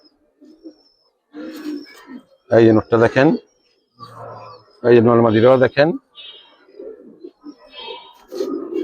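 Giribaz and colored pigeons in a pigeon market give soft, low coos that sit beneath and between a man's close, lively talking.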